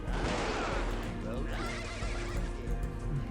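A horse whinnies loudly and shrilly as it dies in the video game Outlaws 5, with the cry running continuously under and alongside a voice.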